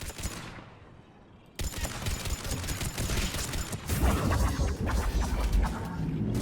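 A Mass Effect 3 firefight fills the space with dense, continuous gunfire: rapid overlapping bursts and impacts that stay loud throughout after a brief quieter opening, with no speech.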